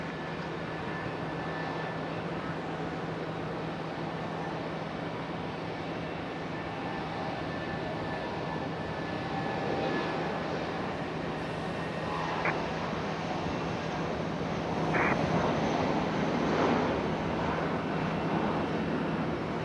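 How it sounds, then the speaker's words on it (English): An Airbus A319 airliner takes off at Raleigh-Durham International Airport, a loud, steady roar of jet engines that builds slightly and holds throughout, heard from outdoors at a distance. "Our A319 getting off the ground early."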